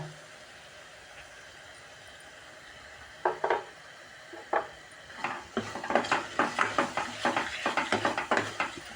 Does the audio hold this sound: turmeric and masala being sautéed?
yes